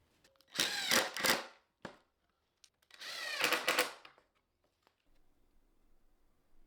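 Cedar planter box panels fastened from the back with pocket hole screws by a power driver, two short bursts of whirring separated by a pause, close and fairly loud with no talking.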